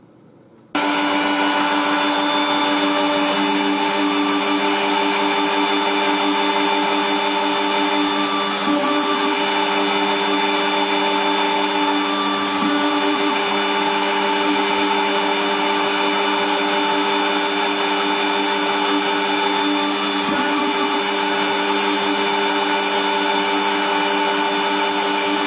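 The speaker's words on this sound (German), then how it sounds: "Also, ich habe jetzt mal hier den Chipsockel fertig gebohrt." A small drill bores holes for a chip socket in a circuit board. A steady high-pitched motor whine with a constant tone runs loud and unbroken for the whole stretch after a short quiet start.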